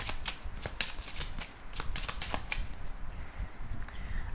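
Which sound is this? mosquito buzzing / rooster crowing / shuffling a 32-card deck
shuffling a 32-card deck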